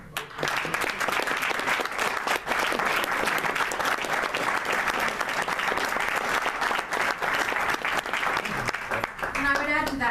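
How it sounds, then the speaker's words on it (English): Loud, sustained applause from a large crowd, steady clapping filling the room, with a voice beginning to speak as it fades at the end. "And I think he really deserves a deep round of applause"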